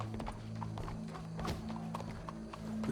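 Steady clip-clop of horse hooves at a walking pace over a constant low hum, with a few faint background noises, in the video game Red Dead Redemption 2.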